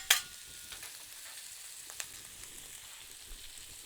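Onions frying slowly on a griddle give a soft, steady sizzle with light crackles, opening with a brief louder pop and staying low and even throughout.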